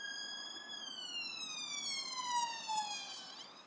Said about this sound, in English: is the British ambulance coming?